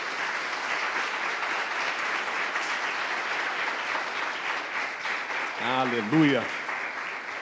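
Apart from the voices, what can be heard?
congregation applause in church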